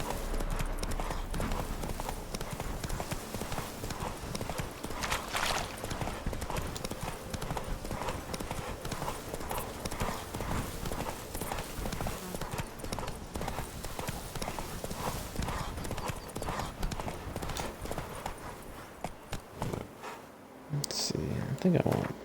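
Roach, a horse in the Witcher 3 video game, trots along with steady rhythmic clip-clop hoofbeats under continuous game ambience and a talking voice, the pace holding until a brief pause near the end.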